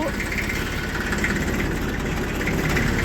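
A tractor engine running steadily, a continuous low rumbling idle close by, with someone speaking over it.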